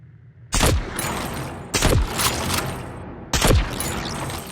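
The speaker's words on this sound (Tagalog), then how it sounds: "Baka Lord, sniper talaga yan." Sniper rifle shots boom in a battle royale video game, three loud, sharp reports spaced over a couple of seconds, each trailing a ringing echo against a low background.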